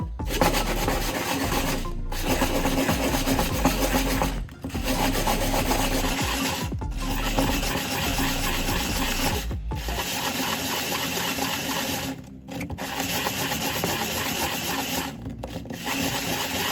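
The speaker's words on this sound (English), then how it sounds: "After a few more minutes of careful sanding, the edge of the glass turns from sharp and rough to smooth and refined." Glass edge being sanded by hand, a steady close abrasive rubbing rasp that runs in long strokes with a few brief pauses between passes.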